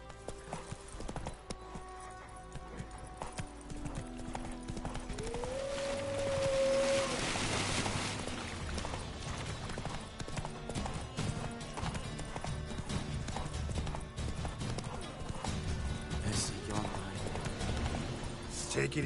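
Roach the horse gallops in The Witcher 3 on PS5, a steady, close clip-clop of hooves under game music and ambience, with a voice speaking briefly.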